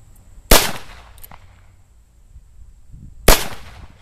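A Cimarron El Malo II .45 Colt single-action revolver fires two sharp, loud shots about three seconds apart, each a sudden crack with a brief decaying tail, against quiet outdoor background.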